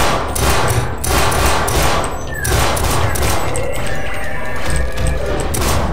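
Continuous rapid gunfire in the video game Sven Co-op, a loud, dense stream of close shots hammering out in quick rhythm throughout, with no pause.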